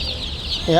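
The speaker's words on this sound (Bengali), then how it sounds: "এটা অরিজিনাল লেয়ার মুরগির বাচ্চা আছে" Layer chicken chicks, RIR type, cheep softly and steadily, with a louder burst of peeping near the end against a quiet indoor background.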